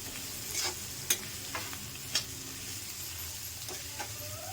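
Onion, carrot and peas being sautéed in a pan, with a continuous sizzle broken by sharp clicks and scrapes of a spoon at irregular intervals, close up and without talk.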